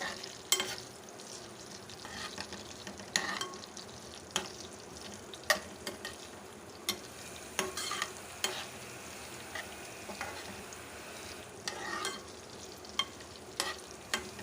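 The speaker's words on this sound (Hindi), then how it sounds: "थोड़ा सा हाई फ्लेम के ऊपर हम इसको फ्राई करेंगे मिर्चों को" Deseeded green chillies frying in oil in a pan over high flame, a quiet continuous sizzle broken by regular sharp clicks and taps of a spoon stirring against the pan.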